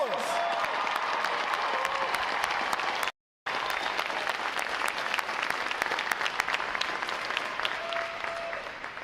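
A large crowd at a Navy boot camp graduation applauds sailors with sustained, dense clapping and faint cheering, broken by one brief dropout before carrying on.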